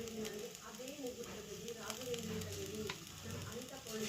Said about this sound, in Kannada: ಈಗ ಒಂದು ಈರುಳ್ಳಿ ಹಾಕೊತ ಇದ್ದೀನಿ ಹುರ್ಕೊಳ್ಳೋಕ್ಕೆ ಕಾಯಿ ಸ್ವಲ್ಪ ಈಗ ಸ್ವಲ್ಪ ಆಯಿಲ್ ಹಾಕ್ಕೊಂಡು ಇದನ್ನು ಹುರ್ಕೊಂಬಿಡೋಣ